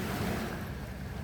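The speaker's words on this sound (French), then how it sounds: "chaque fois qu'on vient, la mer elle s'énerve" Sea waves break on a beach in a short, dense rush of surf, loud and close, with wind noise mixed in.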